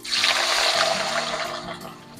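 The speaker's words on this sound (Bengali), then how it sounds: "তেল গরম হয়ে গেছে পনিরটা ছাড়ছি" Paneer hits hot oil in a pan for a cauliflower and pea dish, setting off a loud, broad hissing sizzle that fades slightly toward the end, with no talk.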